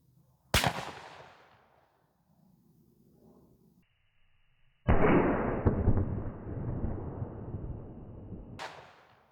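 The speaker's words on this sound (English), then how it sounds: "we'll do the same 20-yard shot with both the lead and TSS and see how much wood we can actually penetrate through" Shotgun blasts ring out at an outdoor range, firing lead and TSS #6 loads into a wooden board: sharp, loud reports with echoing decays open and close the stretch, and a long roaring rumble fills the middle.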